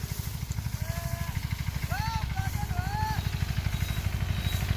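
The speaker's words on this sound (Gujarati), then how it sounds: "જાય રહ્યા ટ્રેક્ટર લઈને તુવેર વાઢે" A tractor driving off to harvest pigeon pea on a farm, its engine chugging steadily and close throughout, with some high chirping calls passing over it.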